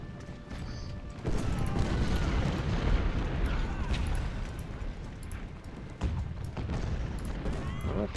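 Artillery fire and battle noise in the Civil War strategy game Ultimate General: Civil War, a continuous rumbling barrage of booms and crashes with scattered sharper impacts.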